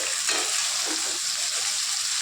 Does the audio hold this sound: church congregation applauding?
no